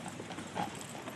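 Faint, muffled hoof clip-clops from carriage horses pulling a horse-drawn carriage, a brief rhythmic patter at a distance with no clear talk over it.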